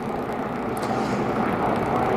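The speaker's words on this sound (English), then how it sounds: "Got the jet blowers out on the track now trying to clean all that debris up from Dale Jr.'s car." Jet dryer blowers clearing debris from a NASCAR oval during a caution, giving a steady, loud jet-engine roar that holds evenly throughout with no voices.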